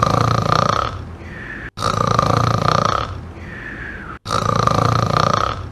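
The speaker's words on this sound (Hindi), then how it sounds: "जो उसने डकार मारा है ना लास्ट में खट्टा सा" Three long, loud, guttural burps, each a sustained rasp ending in a rising tail, separated by brief gaps, standing alone with no talk.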